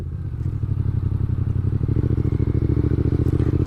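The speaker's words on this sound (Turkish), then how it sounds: "şimdi ikinci viteste bu motoru kaldırabiliyorum" A Yamaha MT-07 motorcycle engine pulls in second gear, a close, loud, steady low throb with a rhythmic pulsing that firms up as revs rise, heard from the rider's position.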